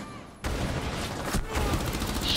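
Bursts of video game gunfire crackle in quick succession, starting abruptly after a short lull and continuing as loud rapid shots and booms.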